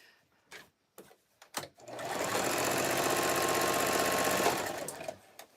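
A sewing machine runs steadily for about three seconds while stitching a fabric rag rug in a home basement, preceded by a few soft clicks and handling taps.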